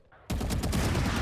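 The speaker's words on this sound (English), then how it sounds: "I suck with the vandal" Vandal rifle firing in Valorant during a deathmatch, a loud, sustained rapid burst of automatic gunfire that erupts suddenly after a quiet moment and continues without pause.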